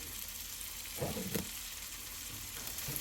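Already-cooked shrimp sizzle in a frying pan alongside parmesan, a steady close hiss with a brief louder burst as they land and get moved, no voices.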